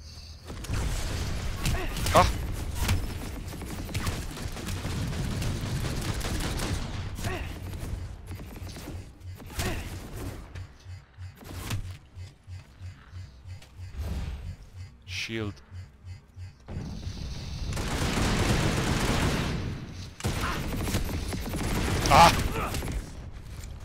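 Gunfire crackles through a Planetside 2 firefight involving upgraded tanks, bursts of shots and mechanical clatter rising and falling over about twenty seconds, with voices talking over much of it.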